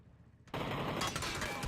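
Video game gunfire aimed at a vehicle tire breaks out abruptly after a short quiet moment, then continues as a loud, rapid burst of automatic fire.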